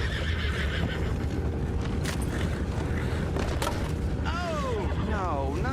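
Horses whinny and neigh repeatedly in the video game Red Dead Redemption 2, with hoof clip-clop and creaking over a steady ambient bed, some talk mixed in.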